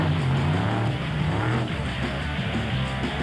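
A BAT space frame car from 2007 is driven hard, its engine roaring loud and close with a pulsing, shifting low growl that runs without a break.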